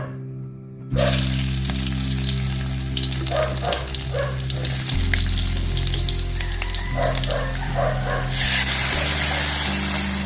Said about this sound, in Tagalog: Yan guys, gisa ko na